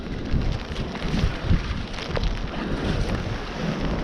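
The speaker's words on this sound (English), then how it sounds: "in the pouring down rain." Steady rain hisses and patters over a rumbling, gusty background on a shore during bass fishing, constant and fairly loud throughout.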